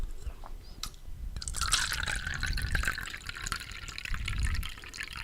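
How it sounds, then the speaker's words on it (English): Wine poured into a small shot glass, a soft steady trickle and splash held close to the microphone against low background rumble. "we're going to hear the wine pour."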